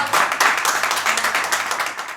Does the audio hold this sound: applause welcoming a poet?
yes